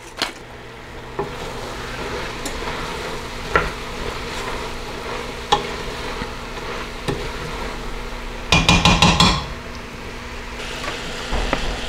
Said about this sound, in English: I'm just going to add a little bit of salt and plenty of fresh ground black pepper